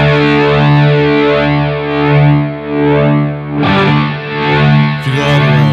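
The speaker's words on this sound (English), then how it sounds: "Sounds chorusy to me, not as rotary." Electric guitar run through the chorus effect of a Tech 21 Richie Kotzen RK5 Fly Rig, sustained distorted notes with a slow, wavering shimmer that swells and dips, loud and close, with a new chord struck near the end.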